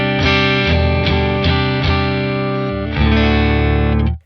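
A clean electric guitar tone through a Revv D20 tube amplifier running in 20-watt mode, bright and glassy, with a sequence of plucked chords ringing in a steady rhythm before a final sustained chord is muted.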